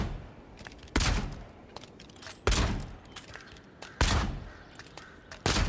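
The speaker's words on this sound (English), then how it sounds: "You can rapid fire and then reload." Pistol rapid fire in Avowed, four loud, sharp shots spaced at a steady interval of roughly a second and a half, with no voices over them.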